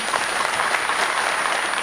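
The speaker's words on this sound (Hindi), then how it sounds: "एक बार इनके लिए तालियां हो जाए" An audience at a government ceremony for families of terror victims applauds the Lieutenant Governor with dense, even clapping throughout.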